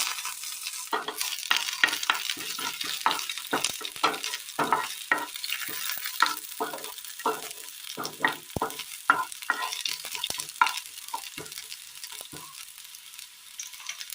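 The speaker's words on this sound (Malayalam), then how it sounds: "എണ്ണ നന്നായി ഒന്ന് ചൂടായി വരുമ്പോൾ അതിലേക്ക് കടുകിട്ട് കൊടുക്കുക ചെറിയുള്ളി അരിഞ്ഞത്" Mustard seeds and chopped shallots fry in hot oil, a steady bright sizzle broken by dense popping and spatter crackles, close and continuous throughout with no talking.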